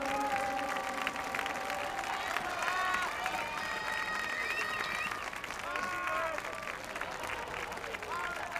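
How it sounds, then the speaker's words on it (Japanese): Crowd applause welcomes the Team Mooren car 46 championship team at the 2011 Super GT Motegi awards ceremony, a continuous wash of clapping under an announcer's amplified voice and background music. "どうぞ大きな拍手でお迎えください。"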